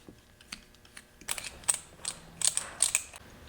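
Hex driver working aluminum screws on a Capo ACE 1 Commander 2 RC car, small close metallic clicks and ratcheting taps in irregular bursts, quiet with no talk.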